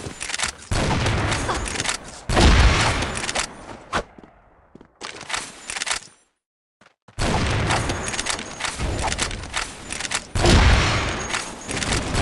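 Barrett sniper rifle shots in the shooter game CrossFire Legends ring out as several loud, sharp booming blasts with echoing tails, separated by brief quiet gaps and a short silence midway.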